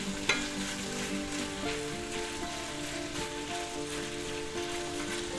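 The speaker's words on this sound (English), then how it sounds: "Alright, now fry this up. Now we're looking to brown it" Sausage fries in a pan with a continuous, crackling sizzle that stays even throughout, with a brief tap near the start and no talk.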